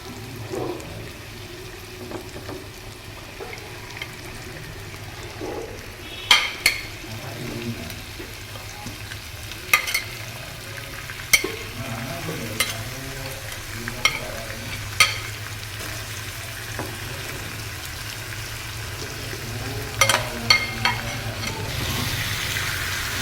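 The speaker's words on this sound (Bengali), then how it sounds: "এর মধ্যে চিকেনটা দিয়ে হালকা একটু নাড়িয়ে নিলাম।" Chicken with chili powder frying in a pan for chicken kosha, steady sizzling with repeated sharp scrapes and clinks of a spoon stirring against the pan, close and moderately loud.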